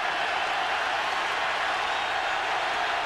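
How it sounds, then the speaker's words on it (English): Steady, loud roar of a stadium crowd cheering on Alabama's defense during a 2003 college football game against Oklahoma, a broad sustained wash of noise with no breaks. "Crowd again is up and cheering on this Alabama defense"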